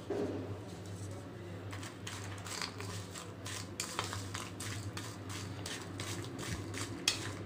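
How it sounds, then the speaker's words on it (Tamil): Amla candy being stirred together with powdered sugar, giving soft scraping and light clinking against a bowl or pan, with a steady low hum in the background. "இப்போ கலந்து கொடுத்துடலாம்."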